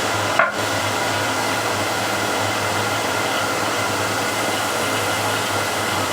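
A heat gun blows a constant, loud, broadband rushing hiss while melting wax in a groove, with a short click near the start and no voices.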